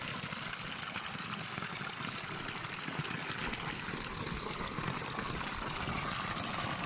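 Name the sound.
creek water flowing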